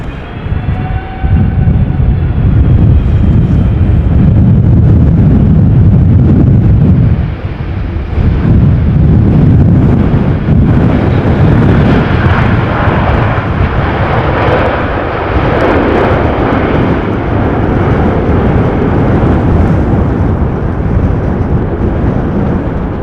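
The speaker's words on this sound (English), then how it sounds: "Effortless landing." An airliner lands at Amsterdam Schiphol Airport in Storm Pia, a loud, sustained roar of engines and rushing wind filling the whole stretch, heavy and rumbling, with a brief whine at the start.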